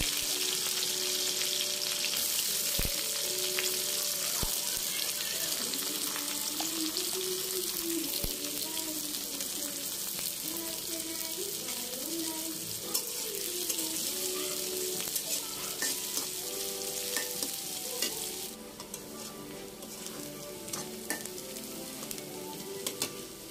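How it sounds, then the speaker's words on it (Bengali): Onions and green chilies frying in a pan for a fish roe curry, a steady loud sizzle running throughout with occasional stirring scrapes and clinks, no talk over it. "আমি পেঁয়াজ আর কাঁচামরিচগুলোকে একটু ব্রাউন করে ভেজে নেব।"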